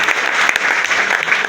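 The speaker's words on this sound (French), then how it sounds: "Applaudissons pour Jésus-Christ." Church congregation applauding for Jesus Christ, a dense, loud, steady wash of many hands clapping close by for the whole stretch.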